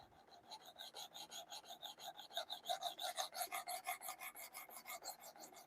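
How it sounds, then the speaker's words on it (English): CPM Rex 121 steel is stroked across a 320 grit diamond sharpening plate, giving a close, rhythmic rasp of quick, even back-and-forth passes that grow louder midway, with no voices. "This 320 grit diamond is definitely cutting this steel"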